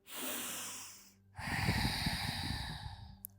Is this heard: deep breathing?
yes